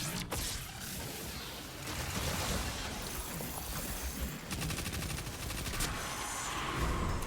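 Sustained gunfire from weapons in Destiny, dense, continuous shooting with rapid automatic bursts and crackling impacts layered over a constant roar of game action, with no talking.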